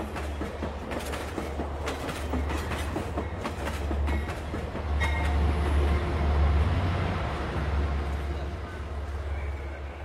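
A passenger train runs overnight toward Puri in a Bengali detective audio drama, giving a steady, close, rolling rumble with a deep low drone and faint rhythmic clatter throughout.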